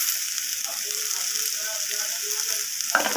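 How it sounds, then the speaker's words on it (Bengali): Ginger garlic paste and salt stir-fried with bitter gourd and prawns in a pan: a steady close sizzle with rhythmic scraping of a spatula, ending in a sharper clack. "আদা রসুন লবণটাকে আবারও সব কিছুর সাথে এইভাবে কষিয়ে নেব"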